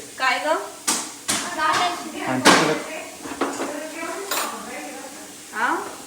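A spoon clinks against a pan while tea is stirred, metallic knocks and scrapes recurring under steady conversation from people nearby.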